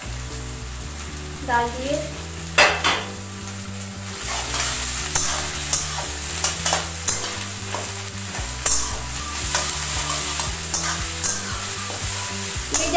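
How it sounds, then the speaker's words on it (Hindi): Garlic paste fries in a pan while being stirred, a continuous close sizzle with scraping spoon strokes and clinks; someone speaks briefly over it. "ये है लहसुन का पेस्ट मैं डाल रही हूँ"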